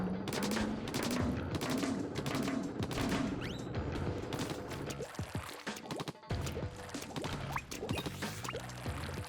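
Rapid ink weapon fire from Splatoon 2's Octo Expansion chatters in dense repeated bursts with wet, splattering hits and clattering impacts, loud and continuous over several seconds.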